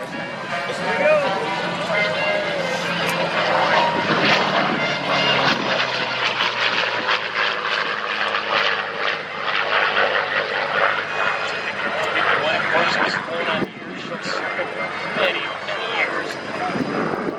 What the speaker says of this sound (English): By the great Lotto Lennox, performing at virtually every major air show in North America with this aircraft.